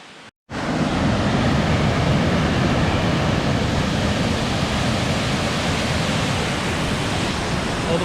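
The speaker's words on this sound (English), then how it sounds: "Well, the falls are definitely flowing." Waterfall at Victoria Park flowing strongly after Hurricane Fiona, a dense, loud and continuous broadband roar that begins after a short pause and holds steady with no voices.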